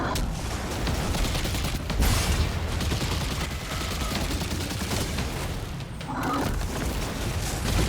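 Gunfire in Destiny 2, Season of the Haunted: a dense, constant rattle of rapid weapon fire with heavier booms mixed in, loud and continuous through the whole stretch, with no talking.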